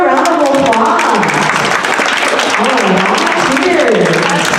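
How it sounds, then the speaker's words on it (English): Loud, close applause from a school audience after a hoop dance performance, dense clapping filling the whole stretch with voices mixed in underneath. "Let's give them one more round of applause."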